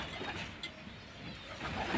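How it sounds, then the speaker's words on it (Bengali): Pigeons drinking water in the sun give soft, repeated cooing that stays steady throughout against a noisy outdoor background. "দেখুন বন্ধুরা পায়রা রোদ্দুরে আছে এসে পায়রা কেমন জল খাচ্ছে"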